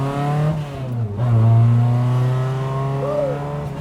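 Lotus Exige S1 accelerating hard out of a hairpin, its engine rising in clear stepped harmonics that climb, dip briefly at a shift, then pull up again, loud and close throughout with no talk.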